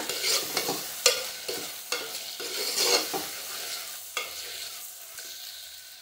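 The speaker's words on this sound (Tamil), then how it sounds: "அதில் 1 கிளாஸ் வந்து நான் ஃப்ரெஷ் பட்டாணி சேர்த்துக்கிறேன். சேர்த்துட்டு இதை நல்லா மிக்ஸ் பண்ணி கொடுங்க" Fresh peas fry in oil in a pan with a soft sizzle, while a spoon stirs and scrapes in repeated close strokes.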